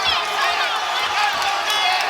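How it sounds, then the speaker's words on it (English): A boxing arena crowd claps and murmurs in a dense, steady wash of noise, with scattered cheers underneath. "There's the clap."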